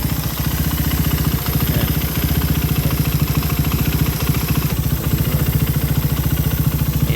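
Carbureted Raider 150 motorcycle engine idling close by, a steady rapid low thumping pulse with an internal mechanical rattle running throughout, loud and continuous with no talk.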